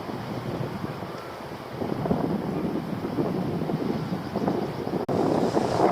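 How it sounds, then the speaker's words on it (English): Breezy wind buffets the microphone outdoors by the sea, a continuous rough rumble that swells after a couple of seconds, with no talk over it. "Nice day as well. A little bit breezy"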